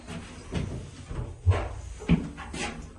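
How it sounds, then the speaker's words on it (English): Doors of a lift in a Hereford city centre building slide shut, with soft rumbling movement and two dull thuds a little apart, close by with no talking. "Doors closing. Lift going up."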